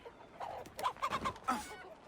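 Chickens clucking and squawking in a game set in the Viking age, a faint cluster of short calls in quick succession, close and quiet.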